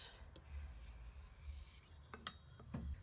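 Quiet, light scraping strokes of a knife blade across a 325-grit DMT diamond plate, a few short rasping passes in an otherwise hushed room.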